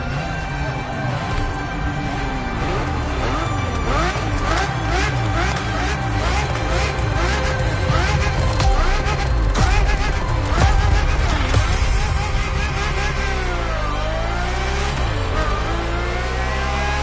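A Ferrari F50 engine in the racing game The Crew Motorfest revs and pulls hard, its pitch sweeping up and down through repeated gear changes, loud and continuous throughout.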